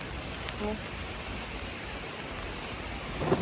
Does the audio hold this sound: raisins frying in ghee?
no